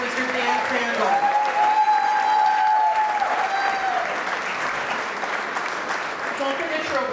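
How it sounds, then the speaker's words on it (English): A chamber of commerce awards banquet crowd gives a big round of applause for an award winner, loud sustained clapping with a voice speaking over it near the start, gradually easing off toward the end. "One more big round of applause for our Raymond P. Shafer Award winner, Mr. Dan Crandall"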